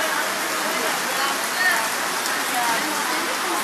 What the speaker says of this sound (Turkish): Maşallah, yağmur güzel. Yağmur süper.